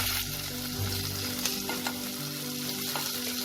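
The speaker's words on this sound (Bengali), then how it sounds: "পেঁয়াজটা হালকা ব্রাউন করে আমার ভাজা হয়ে গেছে" Finely chopped medium onions fry in a pan with cumin for palak chole, a steady close sizzle broken by light scraping as they are stirred.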